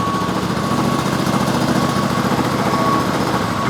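A DiamaPro ROG-60 propane-powered floor grinder runs at low throttle, giving a steady, loud, even engine drone with a faint whine and no other sounds.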